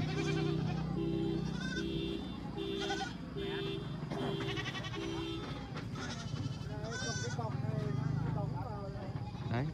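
Several goats bleat repeatedly amid a busy crowd at a livestock market, their wavering cries overlapping with people talking and general market bustle.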